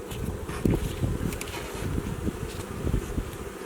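Honeybees buzz steadily around an open beehive outdoors, a dense, low droning hum that fills the whole clip with some wind rumble mixed in.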